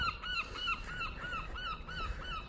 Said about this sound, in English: Wow, those birds make a noise.